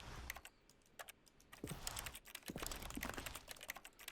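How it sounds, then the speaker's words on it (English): Keys clatter on a computer keyboard in quick irregular bursts of taps, sparse at first and then denser and faster, close by with no voices. "Type all the buttons on the keyboard."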